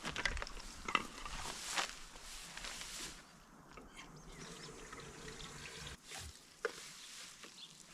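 Water runs and splashes into a garden sprayer in short, uneven bursts of gushing and trickling, fairly close, with pauses and small knocks between.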